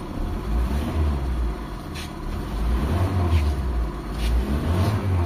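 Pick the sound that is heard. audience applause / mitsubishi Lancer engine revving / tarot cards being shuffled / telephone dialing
mitsubishi Lancer engine revving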